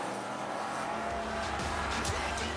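Race cars in an AMCA event at Rockhampton Speedway roar steadily into turn 2, a continuous loud engine drone with a hint of tire squeal building toward the end.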